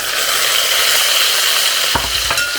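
Loud, steady sizzling of potatoes with meat frying in a hot pan as zucchini is added, with a couple of soft knocks near the end.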